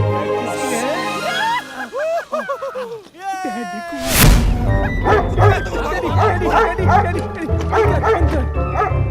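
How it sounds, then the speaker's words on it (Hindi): A guard dog kept at a mansion yips and whimpers, then barks amid dense voices and music in a Hindi comedy film; the dog sounds come in quick, loud bursts mixed under people talking. "डैडी ने हवेली में हमारी सिक्योरिटी के लिए कुत्ता रखा है।"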